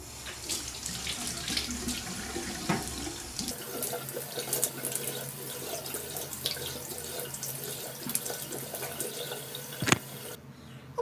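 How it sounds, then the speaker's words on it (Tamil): Water running steadily from a tap while a face is washed at home, a continuous splashing flow with small changes where hands interrupt the stream, close and moderately quiet. "இப்போ நான் வந்து ஃபேஸ் வாஷ் பண்ணிடுறேன்"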